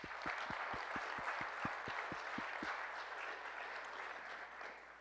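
Applause from a crowd fills the clip with a dense wash of clapping, holding steady at moderate volume over a rhythmic low thumping pulse.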